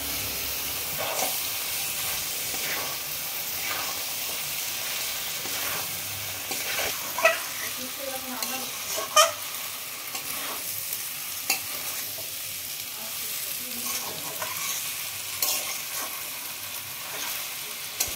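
Boiled, pre-fried young jackfruit pieces tossed into a hot pan with spices, giving a steady sizzle and fry hiss throughout, with intermittent scraping and stirring clatters from a spatula, close and moderately loud.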